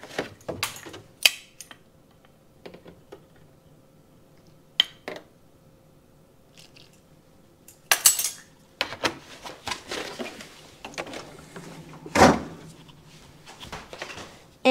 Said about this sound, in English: I kind of just incorporate it all with a spoon, and then I mix it by hand